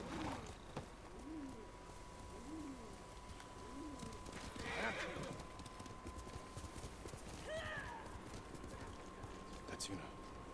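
Horse hooves clip-clop in a rhythmic gallop in the video game Ghost of Tsushima, faint and steady, with birds cooing and calling around it and occasional game sounds.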